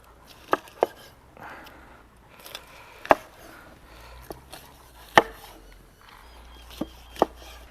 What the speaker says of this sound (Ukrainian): а нам треба нарізати м'ясо протійними шматочками